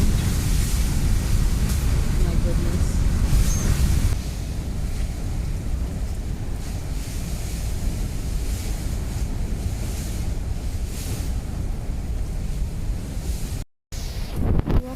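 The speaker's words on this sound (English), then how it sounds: "The wind is blowing straight through the door and it's pushing everything towards here, to the bed." Typhoon wind tears through a house in General Luna, Siargao, a loud continuous roaring rush with gusting surges and buffeting against the microphone, with a brief cutout near the end and a voice exclaiming once.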